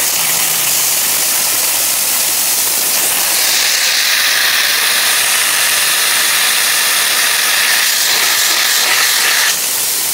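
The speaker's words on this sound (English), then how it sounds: "Yeah, pump's running now." A shallow well point irrigation pump runs loud and steady, a broad hissing wash of water and motor noise that swells partway through and holds strong to the end, with no voices.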